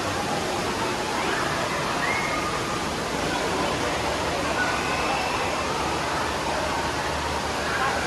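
Steady broadband rush of flowing water at a waterpark lazy river, continuous and fairly loud throughout, with faint voices in the background.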